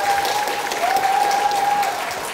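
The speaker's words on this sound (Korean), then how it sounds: "가장 많은 박수를 지금 받고 계시는 것 같아요" Sustained applause from a debate audience fills the space, a dense steady clatter of many hands with a faint tone running through it and no talk over it.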